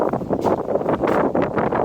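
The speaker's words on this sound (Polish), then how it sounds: "Ale tu w tych uliczkach to bardzo wieje." Steady, gusty wind rushes through narrow streets in Mdina, Malta, buffeting the microphone throughout, a loud, rumbling roar with no voices.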